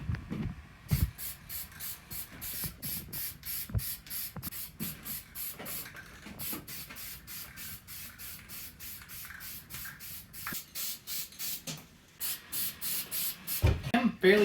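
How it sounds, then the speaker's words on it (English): Repeated short bursts of aerosol spray paint, used for hydro dipping, hissing in quick regular pulses close by, with a few brief pauses and low background noise. "So I'm just going to spray it and see what happens"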